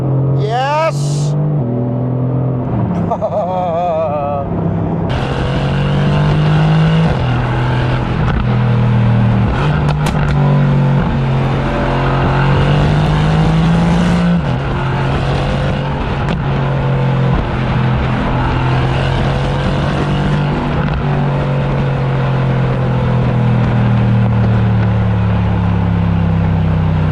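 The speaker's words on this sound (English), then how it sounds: "Dropping some gears. Drop one more." A 2018 Mercedes-AMG GT R engine roars loudly and continuously as it downshifts, with the revs jumping up in distinct steps and then holding a sustained, close, throaty drone.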